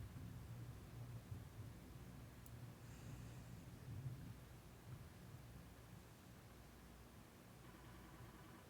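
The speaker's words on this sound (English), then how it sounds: "there's a bad storm coming through my area." Distant thunderstorm rumbling low and faint behind a steady hiss of rain and wind, with no voices.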